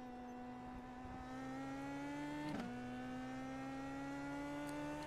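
An Indy Pro 2000 open-wheel race car in the iRacing sim holds a steady, buzzy engine note that climbs slowly in pitch, with a brief glitch partway through. It plays alone at moderate loudness.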